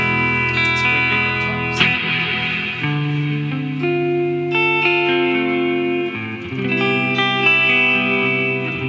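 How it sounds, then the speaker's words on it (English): An electric guitar played through an Old Blood Noise Endeavours Procession reverb pedal rings out in sustained chords and single notes with long, shimmering, washed-out tails, loud and continuous with no talking. "It's not a bad sounding straightforward reverb."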